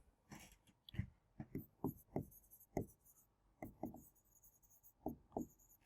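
Writing a math expression by hand, a quick run of close tapping and scratching strokes in irregular bursts, quiet and alone without talking.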